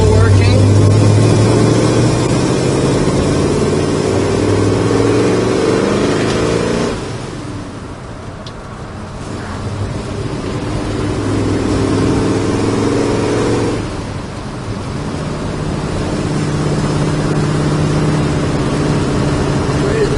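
A 1968 Chevrolet Chevelle engine hums steadily while driving, with low harmonic drone rising and falling as it shifts through gears, continuous and fairly loud.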